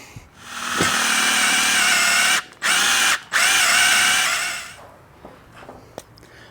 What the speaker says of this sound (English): We're going to drill that out a little bit so this will fit